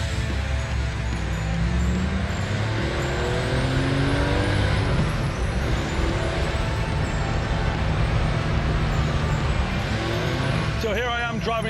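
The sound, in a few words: 1974 Porsche 911 Carrera driving on mountain roads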